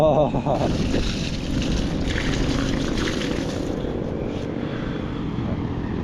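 Loud, steady wind ahead of a typhoon rushes and buffets the microphone throughout in an overcast urban garden, a continuous low roar, with a brief Filipino voice near the start.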